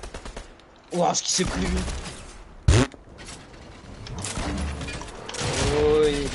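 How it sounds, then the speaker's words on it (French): Gunfire crackling around a player in a Fortnite match, a few sharp shots and scattered bursts at middling distance, one louder crack standing out, while someone talks over the action. "Ça tire de partout, hein."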